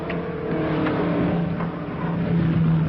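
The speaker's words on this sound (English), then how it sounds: "There's the blonde Comet's car coming out again." A race car pulls out onto a track with a steady, close engine drone that holds an even pitch throughout and no voices over it.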